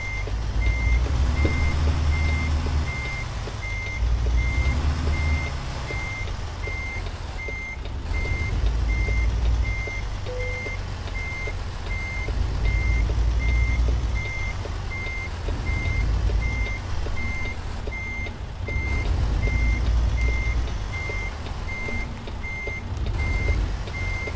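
A truck backing in a small trailer sounds a steady series of regular reversing beeps over its low, rumbling diesel idle, with no voices.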